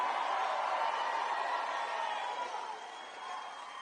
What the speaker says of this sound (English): This is a nice crowd.